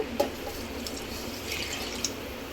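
Water splashes and trickles into a pot of half a kilo of mutton for curry, a steady soft pouring with a few drips, close by and fairly quiet.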